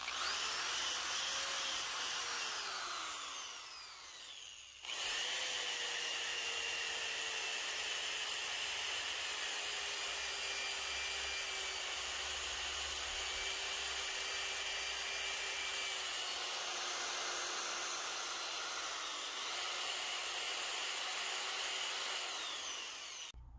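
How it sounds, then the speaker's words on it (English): A cheap drill fitted with a wire wheel attachment whirs steadily while polishing the toe of a golf wedge, a faint continuous high whine with a brief pause partway through and no talk. "So I polished out on the toe around here with the wire wheel"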